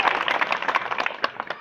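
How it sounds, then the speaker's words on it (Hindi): Close, loud clapping from an audience welcoming a guest at a religious gathering, a dense burst of many hands lasting under two seconds with a few sharper claps near the end. "जोरदार तालियों से स्वागत करें"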